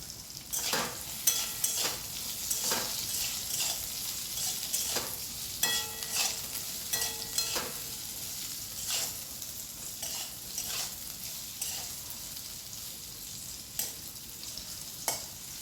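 Potato and pointed gourd pieces fry lightly in a pan, giving a steady close sizzle broken by frequent sharp scrapes and clinks of a spatula stirring against the metal, with no talking.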